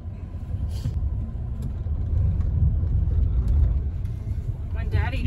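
A Ford F-150 pickup truck driving, a steady low engine and road rumble from inside the cab with people talking over it.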